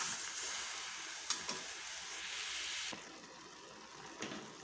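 Chopped tomatoes and chicken cook in a pot, giving off a continuous soft sizzle broken by a few light knocks and scrapes of stirring.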